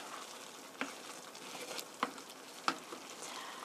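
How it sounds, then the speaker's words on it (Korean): Fusilli pasta in cream sauce is stir-fried in a pan, giving a soft continuous sizzle with a few sharp clicks and taps of a utensil against the pan. "면이 소스가 면 속으로 들어가게 1분 정도만 이렇게 볶아주세요."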